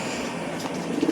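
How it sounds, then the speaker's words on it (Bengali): Pigeon cooing indoors among kept pigeons, a soft low throaty coo lasting about a second, fairly close and quiet against faint background hiss. "দেখো পায়রার ফিটফাট আছে কি দেখবে, ডাকছে কি, উপরে নটটা তো ডাকছে"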